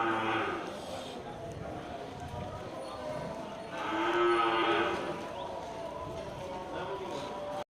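Cattle low repeatedly at a livestock market holding Simmental bulls, the moos rising loudest mid-clip amid steady crowd chatter and barn noise.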